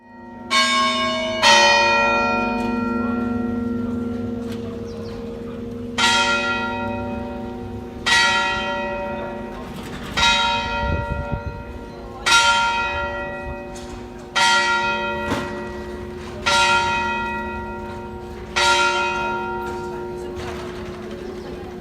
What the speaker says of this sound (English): our hotel was right next to the church whose bells rang for evening mass.